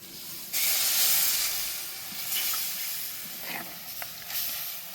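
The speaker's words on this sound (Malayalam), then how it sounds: "നമുക്ക് അതിലോട്ട് വെള്ളം ഒഴിക്കാം" Water poured into a hot pan of fish curry made with Mangada fish and kadavaralu, giving a sudden loud sizzling hiss that swells, then steadies and slowly fades over several seconds, with no talking.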